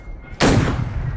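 A single sharp, loud rifle shot at a Civil War reenactment, fired by a sniper, with an abrupt crack and a long rolling echo that fades slowly.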